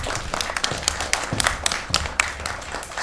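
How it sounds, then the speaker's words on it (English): Scattered spontaneous applause from a conference audience at a mental health journalism event, a loose patter of claps with a few sharper individual hits, moderately loud and steady throughout with no voices. "Spontaneous applause."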